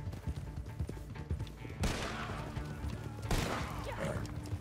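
Gunfire in Red Dead Online while riding a carriage, scattered shots over rumbling noise with two louder bursts of fire, fairly quiet overall.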